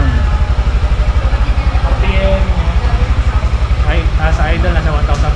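A 400cc motorcycle engine idles steadily nearby at about 1,500 rpm with an even, rapid chugging pulse, while voices talk over it.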